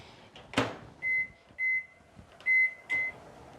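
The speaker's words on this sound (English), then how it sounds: "Now we're going to put this into the microwave" A microwave oven heating a no-bake cookie mixture: a door thuds shut, then four evenly spaced electronic beeps sound up close in a quiet kitchen.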